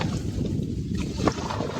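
A boat rowed on a river by a group of friends, giving a steady rush of water and wind noise with a soft splash-like bump partway through, brief and close.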